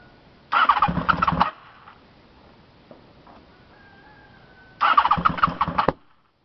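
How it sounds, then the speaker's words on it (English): A rebuilt Honda VFR750 motorcycle engine catches in two short, loud bursts of firing about four seconds apart, each roughly a second long, heard close with a quiet stretch between them. "I don't know why it's backfiring, but okay, it looks like it is firing."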